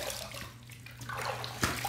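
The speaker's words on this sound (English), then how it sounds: "Let's rinse." Running water rinsing a safety razor, a steady close hiss of tap flow with a brief splash or knock near the end, no voices.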